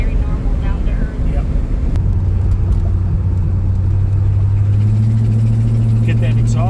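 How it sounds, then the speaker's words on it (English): A loud, rough 1979 Corvette engine with an exhaust leak rumbles up close, its low drone steadying and climbing slightly, with people talking over it. "Get that exhaust leak fixed."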